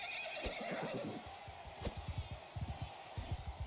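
A horse in the video game Mount and Blade II Bannerlord whinnies near the start, then hooves clip-clop in a quick, uneven rhythm, fairly close and moderately loud, with no talk over it.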